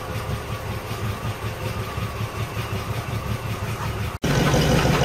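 Cold-running Mercedes W123 230 engine idling steadily with an even mechanical chug, close and loud, until an abrupt cut and a louder, rougher burst of engine noise right at the end.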